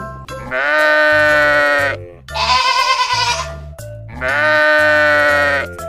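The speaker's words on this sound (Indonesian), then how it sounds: "kambing." A goat bleats three times in a row, each call loud, close and drawn out, with short pauses between and no other sound behind it.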